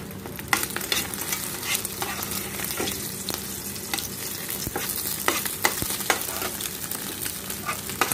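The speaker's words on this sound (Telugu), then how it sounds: "ఎగ్ వేసేసి కొద్దిసేపు వేగనిద్దాము." Egg frying and being stirred in a pan for egg noodles, a constant close sizzle broken by repeated sharp scrapes and clinks of the spatula against the pan.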